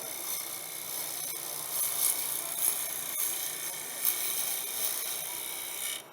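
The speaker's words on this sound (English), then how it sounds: "you can go back to doing another bevel rub cut, which will leave it nice and smooth" Bevel rub cut on a Record Power woodturning lathe at a demonstration, a steady soft scraping hiss of the tool riding the spinning wood with faint ticks, continuous and moderately distant.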